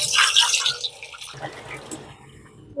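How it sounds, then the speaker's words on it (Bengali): Potatoes being washed under a running tap in a kitchen sink, with a steady splashing rush of water for about a second and a half, then quieter trickles and drips. "আলুটাকে ধুয়ে নিচ্ছি।"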